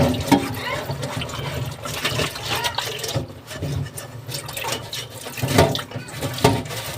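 Rice is rinsed by hand in water before cooking, with continuous sloshing, swirling and trickling sounds nearby and a few louder splashes.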